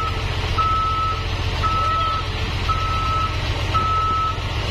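A Fuso truck reverses while helping tow a stranded ALS bus, its backup alarm sounding four steady evenly spaced beeps over a constant low diesel engine rumble, with no talking.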